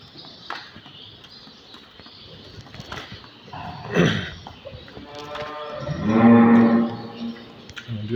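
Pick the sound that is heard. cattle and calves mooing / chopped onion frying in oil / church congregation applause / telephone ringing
cattle and calves mooing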